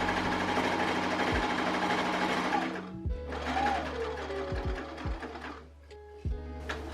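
A sewing machine stitches shirring into stretched fabric in loud, sustained whirring runs, pausing briefly several times with small clicks between bursts.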